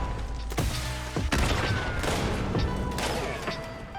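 Missile launcher in Fallout 76 firing rapidly, a run of loud, close booming shots with crashing explosion tails that overlap into a sustained barrage.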